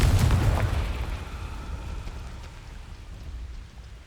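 A Confringo fire spell is cast in the video game Hogwarts Legacy, landing as a loud blast-like burst that decays into a rough, rumbling crackle over several seconds.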